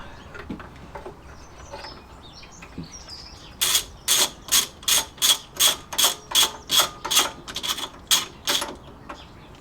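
A ratchet loosening nuts on a classic Fiat 500 engine clicks in a fast, even run of about a dozen loud, close strokes after some quieter handling noises.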